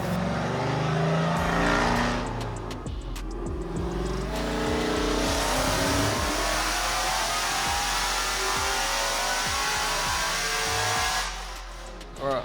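A manual-swapped Dodge Demon on nitrous, pushing toward 900 horsepower, revs hard and loud through repeated rising throttle pulls, its engine note sweeping upward close by and then dropping away at the end.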